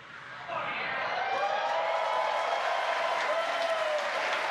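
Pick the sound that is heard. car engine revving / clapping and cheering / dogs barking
clapping and cheering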